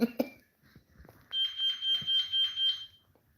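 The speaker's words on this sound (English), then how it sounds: "I keep hearing that beep every day, all day." A house alarm gives a series of rapid high electronic beeps in a pulsing pattern, moderately loud, after a few soft sounds at the start.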